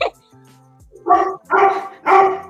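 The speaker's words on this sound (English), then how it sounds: "The dog. The old dog." An old dog barks three times in a row, loud and close, following a short whimper and some faint vocal sounds.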